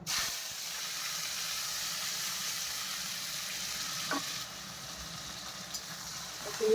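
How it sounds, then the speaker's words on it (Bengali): Onion and tomato frying in hot oil in a pan with whole spices for a homestyle desi chicken curry, giving a steady, fairly faint sizzling hiss that continues without a break, with no talking. "এখন লাল লাল করে ভেজে নেবো"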